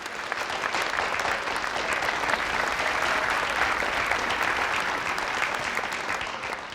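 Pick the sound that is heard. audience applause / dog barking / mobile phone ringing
audience applause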